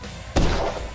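A single revolver shot in the Kill It With Fire video game, one sharp loud report followed by a brief decaying tail, with no talk.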